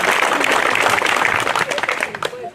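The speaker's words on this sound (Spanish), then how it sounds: "para quien pido un fuerte aplauso" Audience applause greets a local inspector stepping up to the microphone at a groundbreaking ceremony in La Morena, dense clapping that thins out toward the end, with faint voices mixed in.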